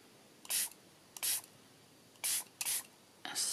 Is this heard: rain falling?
no